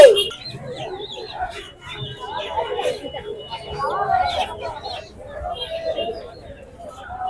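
Chickens cluck and chatter at a busy village market, faint bursts of fowl calls mixed with people talking nearby.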